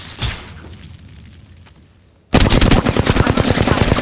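Gunfire in a video game shooter: after a fading shot and a brief lull, loud rapid automatic fire bursts in suddenly and keeps going in a dense, steady rattle.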